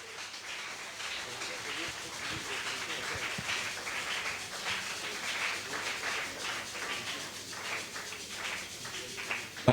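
A church congregation at a Friday worship service applauds steadily, a dense wash of clapping hands filling the room evenly from start to finish with no break.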